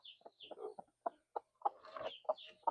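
A broody blue Cochin hen named Poppy gives a run of soft, low, close clucks and throaty grumbles in an uneven rhythm, with no talk over them.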